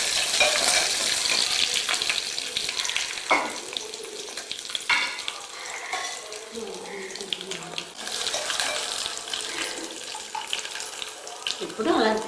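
Tempering spices for Telugu mango dal frying in hot oil, a loud, close sizzle with stirring and splashing that rises and falls in bursts, with a voice briefly in the background.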